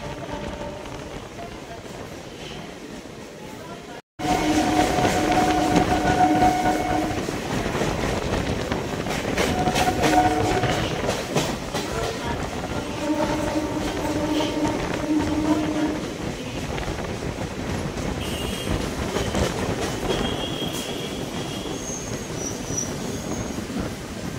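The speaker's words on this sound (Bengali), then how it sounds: "ট্রেনটি তার শেষ গন্তব্য বিবাদীবাগ স্টেশন চলে এসেছে।" A Sealdah–BBD Bag local train pulling into its terminus at BBD Bag station, wheels squealing in shrill drawn-out tones over a steady rumbling roar and rattle of carriages, loud and continuous after a sudden start.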